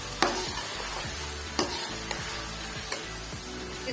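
Onion and ginger-garlic masala for a restaurant-style chicken curry gravy sizzles steadily in hot oil on high heat, with a few sharp scrapes and clacks of the stirring spoon against the pan standing out above the constant frying hiss.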